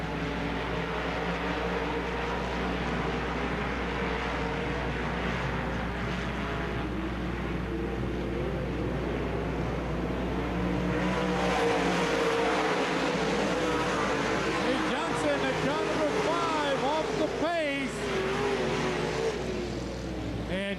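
Dirt late model race cars racing at Davenport Speedway during the 1996 UMP Summer Nationals: a loud, continuous roar of engines with passing cars rising and falling in pitch, one pass standing out near the end.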